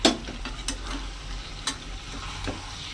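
Chicken, potatoes and fried lentil dumplings being stirred in a pan, a low simmering sizzle with a few light scraping strokes of a spatula, close and fairly quiet, no talking.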